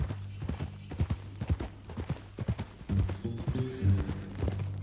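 Horse hooves clip-clopping in Red Dead Redemption 2, a steady run of close, clear hoof strikes at a walking pace over a low engine-like hum, with brief voices and a snort toward the end.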